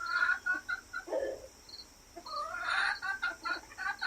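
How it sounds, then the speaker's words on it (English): Chickens clucking nearby in short, repeated bursts, a steady chatter of clucks and soft calls with brief pauses between. "My chickens are over here visiting."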